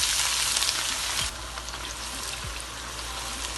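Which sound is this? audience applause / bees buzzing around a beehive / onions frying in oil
onions frying in oil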